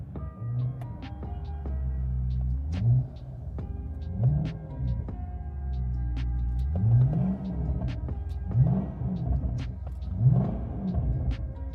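A damaged Hyundai Genesis sedan, a 450+ hp E85-fueled car totaled in a collision, idles with a deep steady rumble and repeated short revs rising and falling at a regular pace, close up with no talking.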